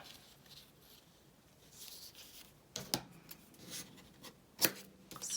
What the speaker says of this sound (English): Snip some of that off.